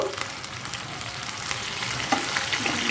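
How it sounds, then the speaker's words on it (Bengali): Garlic paste and ginger paste fry with carp fish in a pan, giving a steady close sizzle with light stirring scrapes throughout, no voices. "এক চা চামচ পরিমাণ রসুন বাটা হাফ চা চামচ পরিমাণ আদা বাটা দিয়ে হালকা একটু ভেজে নেব"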